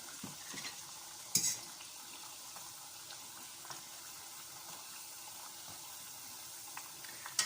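Churros fry in hot oil with a faint, steady sizzle and bubbling, broken by an occasional soft stir or clink, quiet and close.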